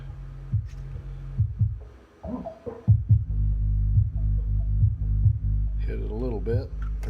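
A Machete 1500D amplifier plays at low volume, giving a steady low bass hum and throb with brief louder bass thumps and occasional muffled voice sounds.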